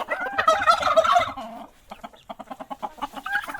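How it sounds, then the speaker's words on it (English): Turkeys gobble on a farm in Manchester, Jamaica, a dense, loud burst of overlapping gobbling calls for over a second, then quieter scattered clucks and gobbles in a rapid choppy rhythm. "Enough turkey you have."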